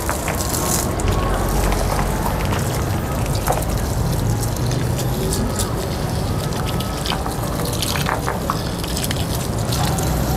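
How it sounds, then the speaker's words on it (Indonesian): Water pours and splashes over potting media being soaked until saturated, a continuous close spraying and trickling with scattered drips and bursts. "Lalu kita siram sampai jenuh."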